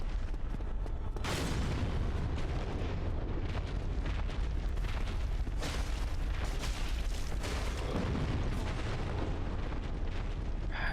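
Explosion in Dark Souls Remastered, a long, heavy rumbling blast with repeated booming surges that fill the whole span at steady loudness, with no voices over it.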